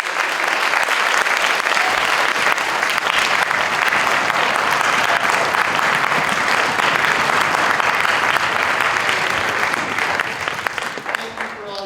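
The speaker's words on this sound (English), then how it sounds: "How about one more round of applause?" A school audience gives a sustained, loud round of applause after a 6th to 8th grade band concert, dense clapping holding steady for about ten seconds before easing off with a few voices at the end.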